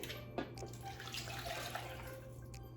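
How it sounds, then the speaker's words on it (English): Water runs and splashes continuously into a bowl nearby, a steady close pouring sound with a faint low hum underneath. "I'm gonna take the 2 cups of water and I'm gonna put it in this bowl"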